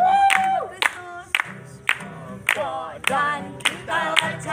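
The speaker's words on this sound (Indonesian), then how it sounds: "Tepuk tangan saudara-saudara." A church congregation claps in rhythmic unison, sharp regular claps roughly every half second, over singing voices and music, clear and close.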